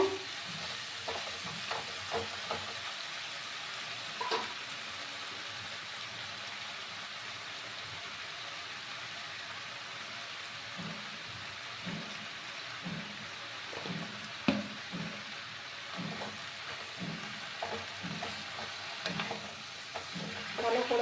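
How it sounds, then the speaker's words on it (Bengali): Bottle gourd greens sautéing in a pan with turmeric, a steady low sizzle under repeated scraping strokes of a spatula stirring the leaves, close and continuous with no talking. "কষিয়ে নেব লাউ শাকগুলো"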